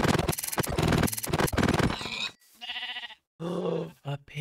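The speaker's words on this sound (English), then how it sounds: "A pink sheep." Several bleats from a pink sheep in Minecraft, short repeated calls near and loud, following a dense burst of other game sounds.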